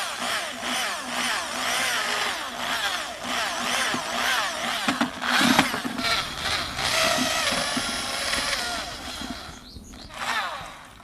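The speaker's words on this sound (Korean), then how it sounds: "석회가 뭉쳐 있을 수 있으므로 이제 이렇게 드릴로 풀어줘요." A handheld power drill whirs in bursts while breaking up lumps of quicklime in a mixing container, the motor rising and falling with scraping and churning close by, a few short pauses between runs.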